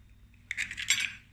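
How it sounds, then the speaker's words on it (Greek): A utensil stirring an egg mixture in a bowl, a brief burst of quick clinking and scraping after a moment of near silence, fairly close. "Ανακατεύουμε πολύ καλά μέχρι να ομογενοποιηθούν όλα."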